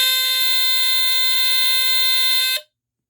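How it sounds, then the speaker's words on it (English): A First Alert SA77RF smoke alarm, used and with its cover removed, sounds a loud steady high-pitched tone during a test, continuous for about two and a half seconds before cutting off abruptly into silence. "Alright, here's coverless used alarm."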